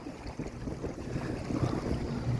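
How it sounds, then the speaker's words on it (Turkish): Large sea waves slosh and splash around a small fishing boat off Çeşme, mixed with heavy wind noise on the microphone. The rough rumble is continuous and has no speech over it. "çok büyük dalgalar varmış"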